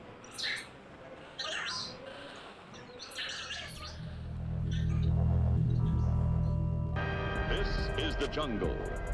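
Tropical birds call in a jungle setting, with scattered chirps and squawks over a dense background, joined by a voice and a low, swelling rumble.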